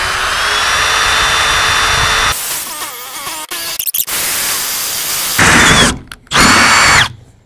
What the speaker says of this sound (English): Light pressure. You don't want to push too hard. Let the drill do the work.